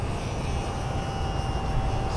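An RC model airplane flies overhead with a steady motor drone that holds even and fairly loud throughout, without any voices.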